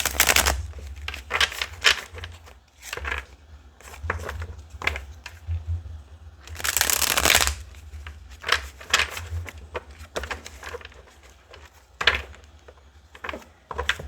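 Tarot cards being shuffled by hand, soft irregular riffles and flicks with one longer burst of rapid card riffling partway through, close and quiet with no voices.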